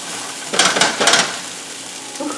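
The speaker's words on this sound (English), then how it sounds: "In goes the garlic and the water chestnuts" Garlic and water chestnuts tossed into a hot frying pan for chicken fried rice, two bursts of loud sizzling and stirring scrapes, then a quieter steady fry.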